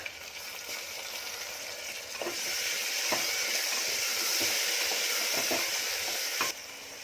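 Onions with added tomatoes fry in a pan for a Konkani lunch, a steady sizzling hiss that swells louder partway through, broken by occasional soft stirring scrapes, close and without talk.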